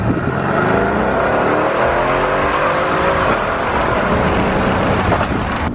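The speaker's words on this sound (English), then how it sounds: "Oh, that blow valve sounds crazy." A Nissan GT-R accelerating hard from inside the car, with a loud, steady engine roar that rises continuously and has a faint whooshing texture, and no talk over it.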